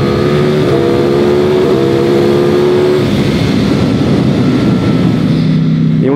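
A Ducati Streetfighter V4 S motorcycle accelerates hard, its loud engine climbing in pitch through rapid gear changes, close and continuous, with no speech.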